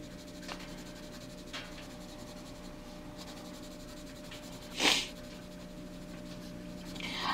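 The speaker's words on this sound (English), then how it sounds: "I can color my butterfly however I want to color it" A coloring pencil scratches and rubs steadily across the page of a stained-glass butterfly coloring book, close and soft, with a faint constant hum beneath and one sharper scrape midway; no one speaks.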